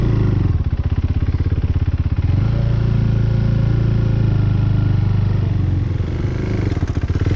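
KTM 390 Duke single-cylinder motorcycle engine idling roughly, a loud, close, uneven chugging with its pulse shifting and settling partway through, running steadily alone without voices.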